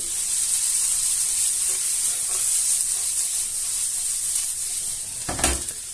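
Chopped onions cook in a pan for an onion, goat cheese and walnut tart, giving off a steady, close hiss of sizzling that barely changes. A brief soft clatter comes near the end.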